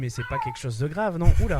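A house cat yowls and meows in drawn-out, wavering cries, loud and close, mixed in with someone talking in French.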